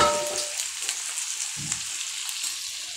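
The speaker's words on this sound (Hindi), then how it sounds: "इसमें हमने अपना लहसुन डाल दिया, जिसे हम थोड़ी देर भून लेते हैं।" Garlic fries in hot oil for a garlic pickle, a steady soft sizzle and crackle close by, with a brief low stir or clunk near the start and again midway.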